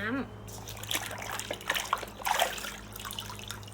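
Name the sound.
rinsing scrubbed shoes with plain water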